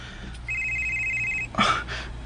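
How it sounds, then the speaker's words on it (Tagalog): Telephone ringing with an incoming call, a single bright electronic tone burst held for about a second, followed by a brief clattering rustle nearby. "Si Tita Paula may nanawag"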